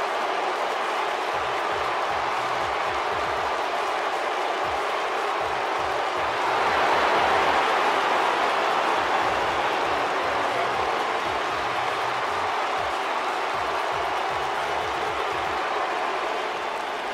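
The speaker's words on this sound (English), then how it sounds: "Sounds to me, guys, like this crowd is ready to get this night started." Video game wrestling crowd in WWE 2K19 cheers and applauds steadily as a dense, continuous roar, swelling a little louder midway before settling back to a sustained wash of noise.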